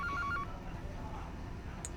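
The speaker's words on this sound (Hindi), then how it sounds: "सो नाउ एंड फोन आ रहा है कोई" A phone rings in the horror game Baby in Yellow, with a short repeated electronic tone pattern early on, then a low hum of background noise and a brief high chirp near the end.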